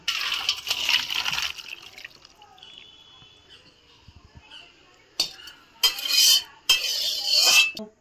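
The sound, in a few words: pouring cooked fish curry from a wok into a bowl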